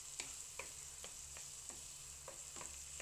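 Ground pork and fresh tomatoes sizzle quietly in a pan while a utensil scrapes through them in regular strokes, about one stir every half second, close and soft over a steady frying hiss.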